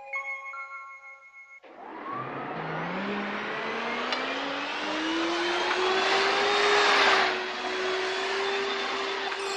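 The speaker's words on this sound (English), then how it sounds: "I'll take you back on my flying vacuum cleaner." A flying vacuum cleaner takes off in a storytelling sound effect. A brief musical tone gives way to a loud, whirring motor that winds steadily upward in pitch like an accelerating engine and holds a strong roar to the end.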